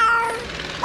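A man mimics a tomcat's yowl with his voice, giving one short, loud, wavering cry up close with nothing else around it.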